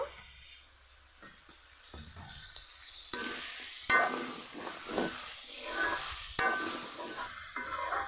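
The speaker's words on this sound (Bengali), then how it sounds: "এখন এতে ধুয়ে রাখা শুটকিগুলো দিয়ে দিব।" Washed, dried loitta fish dropped into hot frying masala with salt, turmeric, tomato and onion, giving a steady close sizzle broken by several louder stirring scrapes, no talking.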